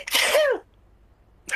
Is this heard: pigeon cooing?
no